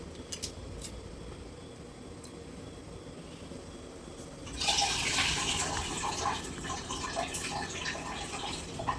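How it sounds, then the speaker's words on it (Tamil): Rice goes into a pot of boiling water while cooking fenugreek rice, a quiet bubbling simmer that turns into a sudden brighter splash and rolling boil halfway through, close and without talk. "இது இப்போ கொதி வர மாதிரி இருக்குது கரெக்டாக இருக்கும் இப்போ அரிசியை போட்டால்"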